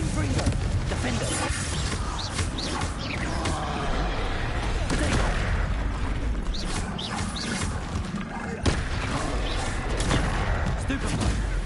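Spell combat in Hogwarts Legacy: a dense, continuous barrage of magical blasts, crackles and impacts with repeated sharp bursts, loud and busy throughout, with a voice calling out under the action.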